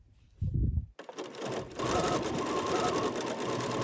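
A sewing machine quilting a crazy quilt block at a very short stitch length, starting with a few low thumps and then settling into a steady, rapid whirring hum, close and clear.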